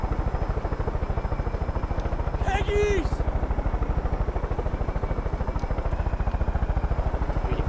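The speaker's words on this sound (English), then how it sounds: "That's a nice helicopter." A helicopter's rotor thumps rapidly and steadily close by in the video game Far Cry 5, with a brief shouted voice cutting in partway through.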